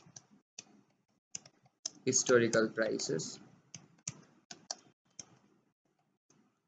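Keys click on a computer keyboard as a stock name is typed, scattered light taps close up before and after a short stretch of someone talking.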